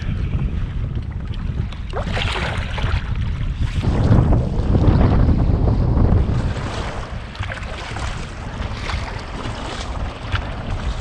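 A headwind gusts steadily into the microphone while a canoe is paddled down the Ganges, a constant low roar that swells mid-way, with faint water movement underneath.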